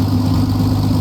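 A Skunkcrafts P-51D Mustang's piston engine idles at 1000 RPM in a flight simulator game, giving a steady, loud, low throbbing drone with no voices.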